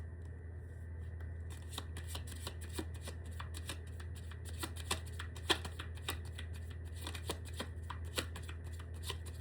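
Oracle cards being shuffled close up, a steady run of soft riffling and papery flicks with a few sharper snaps, over a low constant hum and no talking.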